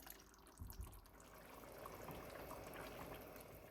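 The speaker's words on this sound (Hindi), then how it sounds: "इनमें थोड़ा सा पानी डाल लिया।" Water poured into ground tomatoes while cooking dhaba-style aloo keema, a soft steady splashing and trickling that builds and continues throughout, near and fairly quiet.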